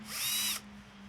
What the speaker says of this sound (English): before we can tap the new hole in the block, we need to drill out the old one